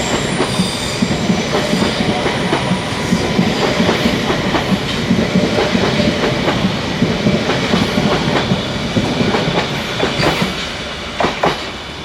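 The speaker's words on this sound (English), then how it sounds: "So out goes our train." A London Underground Metropolitan line train departs with steady rolling rumble, rhythmic clickety-clack of wheels over rail joints and faint wheel squeal, heard close and continuous for about twelve seconds.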